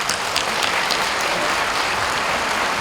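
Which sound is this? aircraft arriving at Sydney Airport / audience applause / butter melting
audience applause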